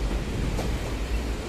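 A train rolls on rails in the video game Emotionless The Last Ticket, giving a steady, loud low rumble with faint wheel-on-rail clatter throughout, and nobody speaks over it.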